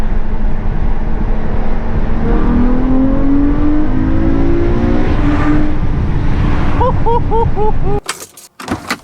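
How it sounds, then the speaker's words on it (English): A Ferrari V12 pulls away with a loud, rising engine note heard from inside the car, then a few quick rhythmic chirps and clicks before it cuts off abruptly. "I mean, I'm hardly pressing the gas pedal there"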